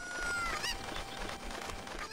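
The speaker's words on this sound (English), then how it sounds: "No use getting angry at chickens, they're just chickens." A chicken in Legend of Zelda: Ocarina of Time gives a series of squawking clucks, a busy run of bird calls over a steady game background.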